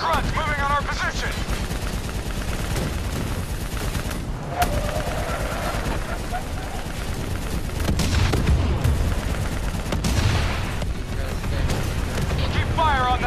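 Heavy gunfire in a Call of Duty: Black Ops 3 battle, with sustained automatic bursts, booms and mechanical clatter layered across the whole stretch and voices shouting over the fight.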